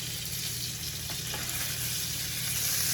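A tomahawk steak sears in butter with garlic and rosemary, producing a steady, close hiss of frying that grows slightly louder toward the end, with no talk.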